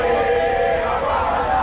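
Vélez football fans arriving under police escort, their loud massed chanting carrying on as a continuous, close crowd roar.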